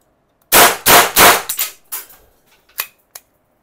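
Tokarev TT-33 blank-firing replica pistol going off in a quick run of sharp, loud reports, three close together and then several smaller cracks and clicks trailing after, with no voices.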